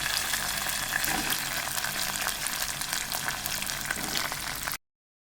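Onions sauté in a pan with garlic, chili and curry leaves for a millet dosa, making a steady, close, loud frying sizzle that runs unbroken before cutting off abruptly.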